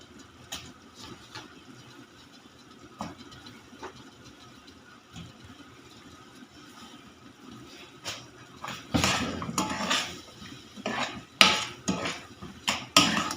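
Raw mango pieces tipped into a pot for murabba give scattered clinks and knocks, sparse at first, then a denser run of louder clatter and thuds toward the end, with no talking.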